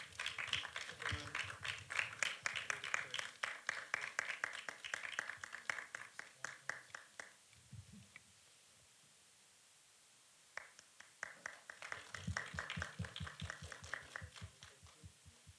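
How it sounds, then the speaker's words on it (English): Clapping from a seated audience at the Inkspell Insight Ignition 3.0 event, honouring the session hosts, with quiet hand claps in two bursts separated by a near-silent pause of a couple of seconds, faint and somewhat distant. "Also, can we have a round of applause for all of them"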